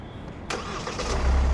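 A Hyundai Palisade diesel SUV starts up: a quiet lead-in, then a sharp crank catch and the engine rumbling into a low, strengthening idle close by.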